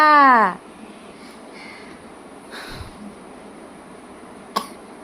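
A small child coughs a few times close by, short rough bursts separated by quiet pauses, with faint household background.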